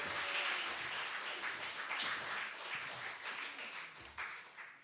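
A church congregation claps and cheers to welcome their pastor during a Sunday worship service, with faint, somewhat distant applause swelling and fading.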